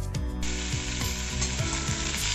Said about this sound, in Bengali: ফোড়নটা আমার গরম হয়ে গেছে। এর মধ্যে আমি কাঁকরোলগুলো দিয়ে দেব।